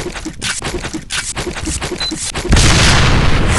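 An M1887 shotgun fires in the video game Point Blank: a quick run of loud, evenly spaced booming shots, then a dense, sustained roar of gunfire.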